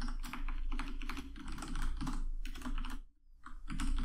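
Rapid keystrokes on a computer keyboard as code is typed, a dense run of close clicks with a brief pause near the end before typing resumes.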